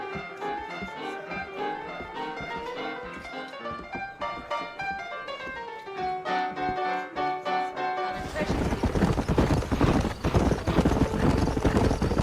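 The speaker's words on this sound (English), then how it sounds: "I got the horses saddled up and ready out front." Horses clip-clopping in the western video game Red Dead Redemption, a rhythmic run of hoofbeats over music that gives way to louder, denser galloping and rumbling near the end.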